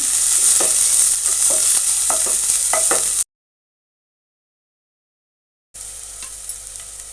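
Onions sizzle in hot oil in a pan, a steady bright frying hiss with scattered crackles and stirring clicks, cut off by a few seconds of silence before a quieter sizzle resumes.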